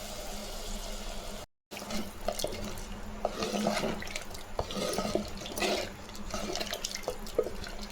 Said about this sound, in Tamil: கழுவி தண்ணி ஊற்றிடுவோம்